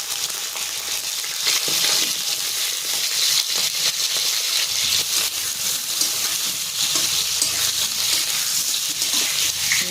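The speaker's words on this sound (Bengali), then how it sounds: "তারপরে আমি বেগুনগুলো ভেজে নেব" Eggplant fries in a pan of hot oil with a loud, steady hiss and crackle throughout, close by and without a break.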